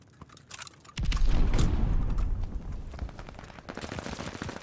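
Rapid bursts of gunfire in a Call of Duty Vanguard Hardpoint ranked match, loud and dense after a quieter opening, continuing as sustained automatic shooting that fades slightly toward the end.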